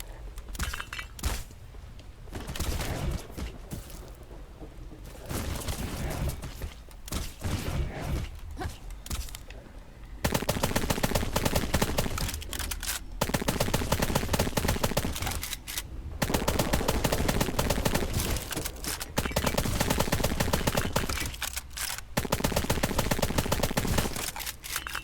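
Gunfire from the skypunk action game Black Skylands rattles in long, dense automatic bursts, broken by short pauses and growing louder partway through, with no talk over it.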